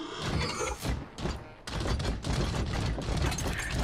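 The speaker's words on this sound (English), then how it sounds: "Oh, the grenades!" Grenade blasts and bursts of gunfire from the video game Wasteland 3 rumble loudly in quick succession, with a couple of short pauses between volleys.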